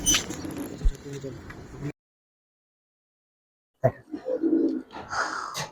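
Giribaj and coloring pigeons coo softly inside a loft beneath steady nearby talk, and the sound drops out completely for about two seconds midway.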